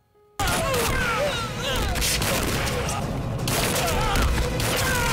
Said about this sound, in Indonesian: Dia juga menembak ibu Rishi